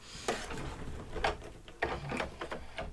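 An embroidery machine stitching a pizza slice in-the-hoop mug rug, with close, soft mechanical thumps and clicks at uneven intervals over a low hum, no voices.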